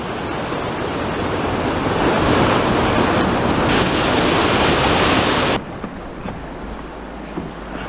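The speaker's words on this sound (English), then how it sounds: "Bit of a waterfall here" Waterfall on the North Saskatchewan River in a canyon, a loud, steady rush of falling water heard up close with no talk, dropping to a lower, quieter roar near the end.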